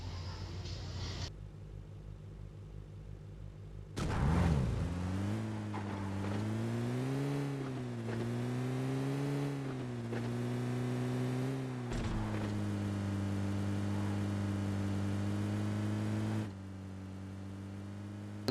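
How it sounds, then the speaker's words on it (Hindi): A car engine drones and revs steadily in the PUBG Lite video game, rising and dipping in pitch as it drives, loud and continuous for most of the stretch after a brief quieter opening. "मैं गाड़ी लेकर जा रहा था"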